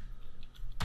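Quick, light keystrokes on a computer keyboard as a command is entered, a few faint clicks that end in a louder burst of keys.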